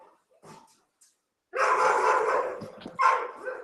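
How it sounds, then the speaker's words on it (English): A neighbor's dog barks from next door: a brief yip first, then a sustained run of loud, rough barking and whining that breaks off and returns in a final burst. "That's the dog next door. Hate that dog."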